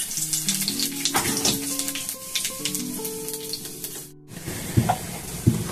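Dried red chili and cumin seeds sizzle steadily in hot oil, a loud, close, continuous frying hiss with crackles and a short pause near the end, with no talking.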